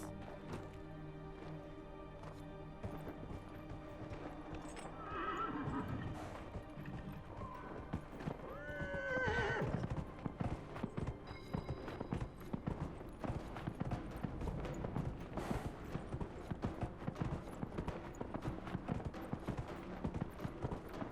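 Game horse in Dragon Age: Inquisition gallops during a race, a long run of rapid, close hoofbeats, with a couple of brief neighs and snorts partway through and steady clattering to the end.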